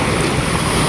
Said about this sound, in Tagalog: Malaki po yung tubig ngayon.